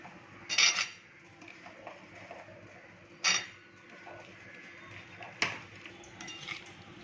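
Raw mango pieces being mixed into cooled pickle masala, with three distinct clinks of a metal spoon against the bowl over soft, quiet stirring.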